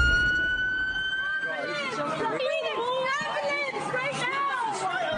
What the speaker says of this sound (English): With sirens blaring, an ambulance rushes through this crowded strip